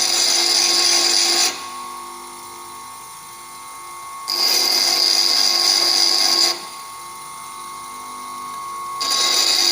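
Lathe cutting tool bit being shaped on a grinder, loud high-pitched grinding in three bursts separated by quieter spinning-wheel hum, close and alone without talk.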